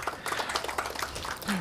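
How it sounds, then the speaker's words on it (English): An audience claps for a traditional Malay welcoming dance group at a tourism forum in North Sumatra. The applause is a moderately faint, steady patter of many hands with voices mixed in. "Applause for the group."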